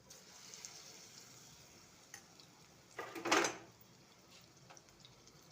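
Potato pakoras dropped into hot oil, a soft background sizzle with a brief louder hiss and crackle as the batter hits the pan, plus light clinks of utensils, quiet and close.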